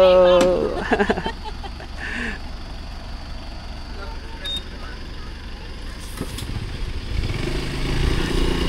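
A motorcycle carrying four riders passes on a mountain road, its engine rumbling steadily under wind noise, with a louder surge near the end as it goes by; voices are heard speaking over it.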